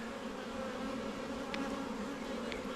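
A steady, dense hum of many honey bees buzzing close up at a hive, continuous and unbroken, with no voices.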